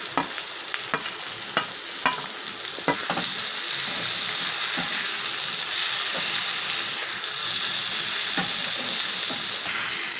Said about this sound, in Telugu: ఇప్పుడు వేయించుకున్న కాకరకాయలను వేసుకుందాం.